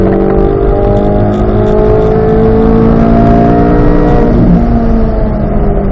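A car engine drones loudly from inside the cabin on a race track as the driver brakes, its pitch sliding down and rising again in steady tones, with no voices heard.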